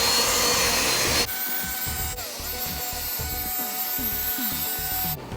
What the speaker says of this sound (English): now that I applied the cleaner, I'm gonna go ahead and agitate this bottom portion of the seat